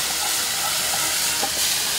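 Fish brine simmering in a pot is ladled up and poured back in, giving a steady loud bubbling hiss with a brief splashing pour toward the end.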